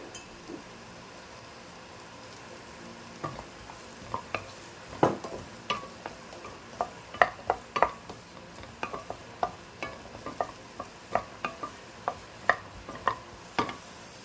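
Bottle gourd sautéing in a pan for thogayal, a quiet low sizzle punctuated by a run of sharp spatula taps and scrapes that grows busier toward the end.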